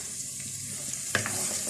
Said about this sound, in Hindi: अब हमारे पास जो जीरा भुना हुआ है, सबसे पहले इसमें ये जीरा डाल देंगे।